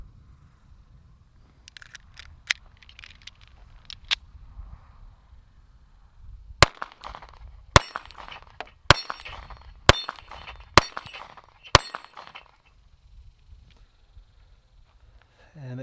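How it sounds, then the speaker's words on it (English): A Springfield 911 .380 pistol fires Federal HST 99-grain jacketed hollow point rounds in a string of about seven sharp, evenly spaced shots, captured as distant clipped cracks after a stretch of quiet shuffling and low talk. "shooting the Federal HST through it now"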